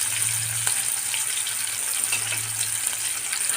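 Tomatoes and onions sautéing in oil with curry leaves for a potato masala give a steady, close hiss of frying with a faint low hum underneath, running continuously without any talk.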